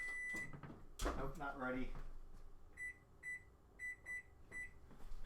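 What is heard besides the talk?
kitchen timer beeping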